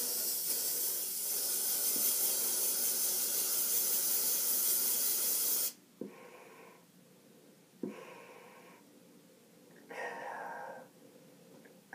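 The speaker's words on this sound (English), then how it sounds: "Now I'm going to get the Lysol and then spray it." A loud, steady Lysol aerosol hiss sprays for several seconds and cuts off, followed by a few short clicks and one brief, quieter spurt, while testing a Soviet PDF-D gas mask.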